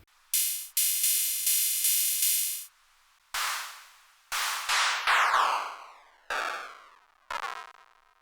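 Electronic drum hits from a eurorack setup fire in a sparse sequence: bursts of noisy crash, sharp clicks and sweeping pitched zaps, loud and dry with gaps of near silence between.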